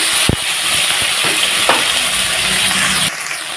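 Spice paste hitting hot oil in a frying pan with bay leaves and cumin, giving a loud, steady, broad sizzle and hiss with a few knocks of a spoon stirring, close by and with no talking.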